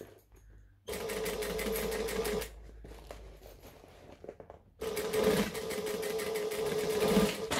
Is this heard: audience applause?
no